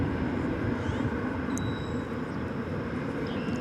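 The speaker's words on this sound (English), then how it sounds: "It's an Airbus A321 arriving from Kansas City." Continuous low rumbling roar of an Airbus A321 airliner arriving at DFW Airport at dawn, steady and moderately distant, with a faint whine on top.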